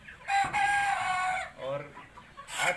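Sonali chickens cluck and crow close by in repeated bursts, loud and continuous across the clip, with a flock calling together.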